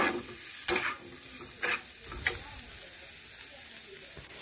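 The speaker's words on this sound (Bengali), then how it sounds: "ভালোভাবেই ভেজে নিচ্ছি" Pointed gourd and potato fry gently in a pan, a faint soft sizzle marked by three or four distinct spatula taps and scrapes against the metal.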